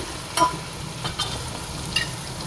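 Tomatoes stirred into onions frying for palak gosht: a steady sizzle with a few sharp spoon scrapes against the pot, close up, no talking.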